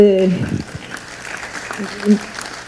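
Audience applause follows a panel talk on adolescent sexual and reproductive health: a voice fades out at the start, then a broad wash of clapping carries on steadily at moderate level.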